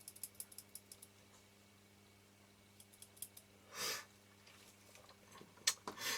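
Kodak Retina 1b camera shutter firing on a workbench during repair: small dry mechanical clicks at the start, a soft whooshing burst mid-clip, then a sharper snap near the end, quiet and close with a low steady hum beneath.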